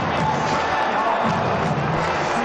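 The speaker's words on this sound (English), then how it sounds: "The polite applause from the members here at Lord's" Polite applause from the members at Lord's cricket ground during an England versus New Zealand super over, heard as a steady, distant wash of crowd clapping.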